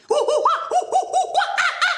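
A person imitates a monkey with a quick series of rising and falling hooting calls, loud and close, one after another for about two seconds, in a comedy sketch set at a doctor's office.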